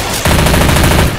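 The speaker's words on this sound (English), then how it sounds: "Machine gun." A machine gun in the Left 4 Dead 2 zombie shooter fires a loud, rapid, continuous burst of about a second, with evenly spaced shots close up.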